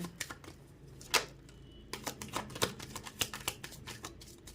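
Tarot cards being shuffled in a run of crisp riffling clicks and flutters, close and fairly loud, with no talking.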